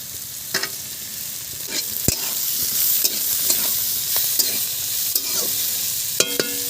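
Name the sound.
beans and capsicum frying and being stirred in a pan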